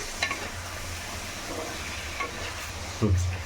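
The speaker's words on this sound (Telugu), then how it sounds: "మధ్యలో మధ్యలో అలా కలబెడుతూ ఉండాలన్నమాట, అంటే కలుపుతూ ఉండాలి, లేకపోతే అడుగంటుతుంది కదా" Chicken and cucumber curry is stirred in a kadai over a high flame, giving a steady close sizzle with spatula scrapes, and a louder scrape and hiss near the end.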